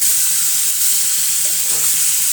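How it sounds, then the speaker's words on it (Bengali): Pieces of green jackfruit fry in hot oil with a loud, even, close-up sizzle that holds unbroken for a couple of seconds. "তারপরে ইঁচড়টা আর একটু ভাজবো"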